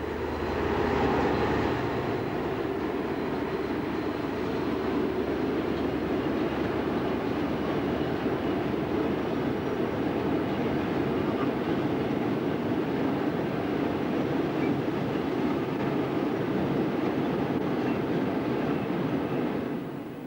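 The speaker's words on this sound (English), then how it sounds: "a train of coal heading west passes over a farm track on the approach to" A westbound coal train rolls past steadily near Warsop Junction, a continuous heavy rumble of engine and wagons holding at constant loudness throughout before easing at the very end.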